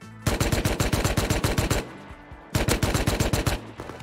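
Automatic rifle fire in the Rust video game, two loud rapid bursts of close shots, the first about two seconds long, a short pause, then a second burst, with no voices.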